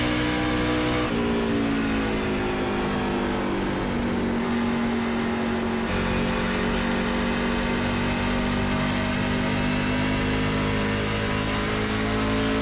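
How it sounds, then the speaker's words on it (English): NASCAR race car engine accelerating in iRacing at Darlington, a loud sustained whining roar with pitch shifting as it revs through gears, continuous and close. "Car has started to go now."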